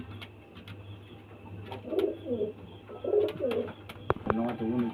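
Phulshira pigeons coo in a few soft, throaty bursts close by, with low steady background hum and a voice murmuring faintly at times.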